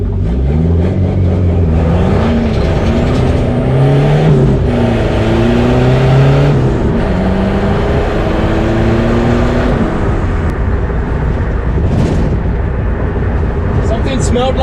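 Heard close from the cab, a turbocharged 2.2-liter Chevy S10 accelerates hard, its engine note climbing through several gear pulls with shifts between them and a whooshing burst near the end, while a voice talks over it.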